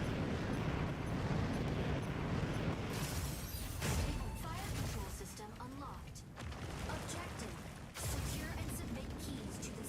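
Enemy gunfire and explosions rumble through a mech battle in Mecha Break, a dense, continuous roar of booms and rapid shots with bursts swelling and fading, loud throughout, with a voice talking over the fighting.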